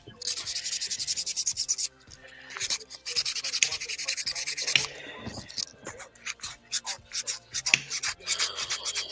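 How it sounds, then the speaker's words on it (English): A lock part is sanded by hand with sandpaper, close, rhythmic rasping strokes in quick bursts with short pauses between them. "I'm gonna have to sand it off because I messed it up."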